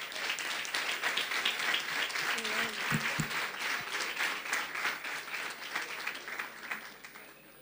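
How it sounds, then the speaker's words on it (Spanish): Audience applause at a congress, sustained dense clapping from a crowd filling the whole clip, fading slightly toward the end. "quiero pedir un gran, gran aplauso"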